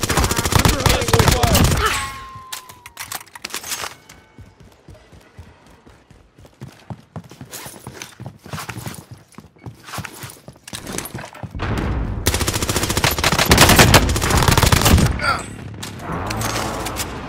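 Automatic gunfire in a military shooter video game, loud dense bursts at the start and again near the end, with quieter scattered shots and game effects in between.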